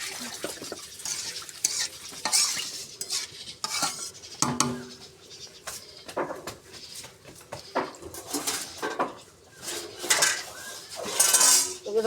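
Water goes into a pot of fried spice paste for a pangas fish curry. A metal spoon clanks and scrapes repeatedly against the pot with brief sizzling bursts, a few sharp louder knocks, and faint voices in the background.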